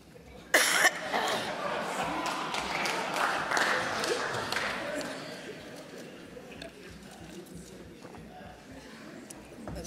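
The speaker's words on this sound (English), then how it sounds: "that cough comes at a strategic moment." One sharp, loud cough breaks out near the start in a parliamentary chamber during a vote of no confidence, followed by a restless room murmur with scattered clatter that fades out.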